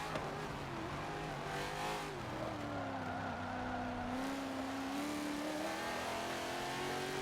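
Race car engines in Forza Motorsport 7 drone continuously, a steady rising and shifting engine whine with gear changes and a dense pack of cars, heard at moderate level without talk.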